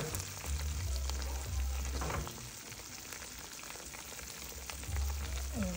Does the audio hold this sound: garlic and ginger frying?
yes